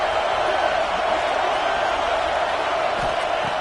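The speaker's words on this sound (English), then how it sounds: "And here comes the noise. This crowd is trying to inspire this defense to make a big red zone stop." A stadium crowd at a Clemson at South Carolina football game roars in a steady, dense wall of noise, loud and unbroken, with a commentator talking over it.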